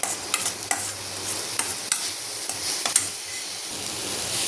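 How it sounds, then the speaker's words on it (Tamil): A gooseberry mixture sautés in a pan on low heat, a steady gentle sizzle broken by repeated scrapes and taps of a spoon stirring close by. "இப்போ கொஞ்சம் சிம்மில் வச்சு இதை நல்லா வதக்கி விடுவோம்"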